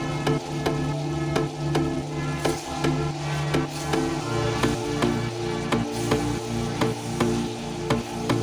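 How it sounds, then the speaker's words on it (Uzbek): Steady sizzling of ingredients frying in a pan for lagman, with regular sharp knocks and scrapes of a utensil against the pan throughout, close and continuous with no talking. "Buni ham 1-2 minut davomida yaxshilab qovurib olamiz."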